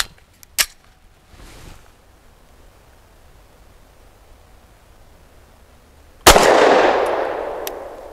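Beretta APX A1 Compact pistol firing Federal HST 124-grain ammunition: one sharp, loud shot near the start, a quiet stretch, then a second loud report with a long echoing tail, fired outdoors close to the mic.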